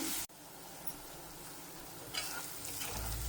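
Onions frying in a pan alongside prawns and turmeric make a soft, continuous sizzle, quiet and close, with a brief clunk near the start.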